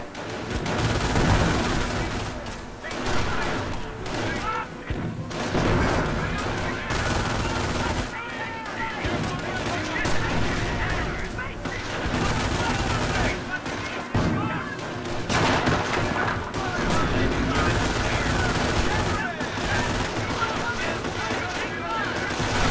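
Sustained gunfire and artillery barrage in a Company of Heroes WWII battle, dense overlapping shots and heavy booms rolling continuously throughout at a loud, steady level, with voices speaking underneath.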